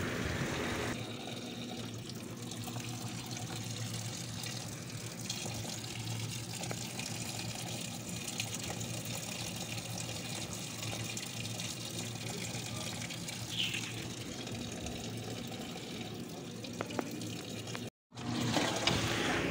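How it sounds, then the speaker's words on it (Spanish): A washing machine fills with water on its own, a steady gushing inflow running close and continuous for most of the stretch before a brief cut near the end. "miren, ahí sale el agua, solita sale el agua, entonces solita se va a llenar hasta su nivel que tiene que ser"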